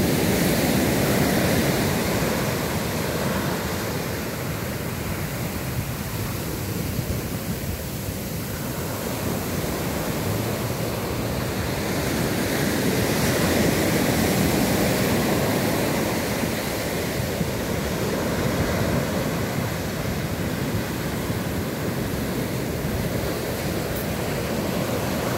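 Ocean waves washing in at high tide on a breezy, cool evening, a steady broadband roar of surf mixed with wind rumble and no voices throughout.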